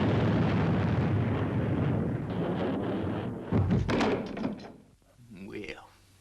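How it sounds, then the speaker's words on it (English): Main boosters firing on the Fireball XL5 spaceship: a deep rumbling roar that is loud at first, then fades and dips, with people talking over the later part. "Fire main boosters, Robert. Firing main boosters."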